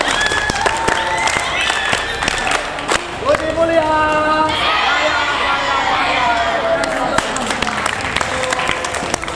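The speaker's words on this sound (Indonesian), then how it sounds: "kita tepuk semangat dulu" A group of schoolchildren in a physical education class clap together in a rhythmic cheer, a fairly loud burst of claps mixed with chanting voices and lively crowd noise.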